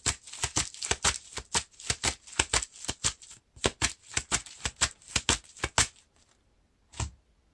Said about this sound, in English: I'm shuffling an Eagle of the North into the encounter deck.